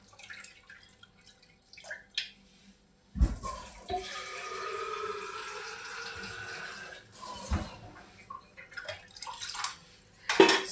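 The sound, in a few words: water running while washing pork ribs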